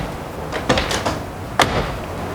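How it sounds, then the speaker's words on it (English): A 1967 Chevrolet Camaro Super Sport door, fifty years old, swinging and clicking shut, with a couple of sharp latch thuds close by over a quiet background. "That takes a long time to get that door to close like that."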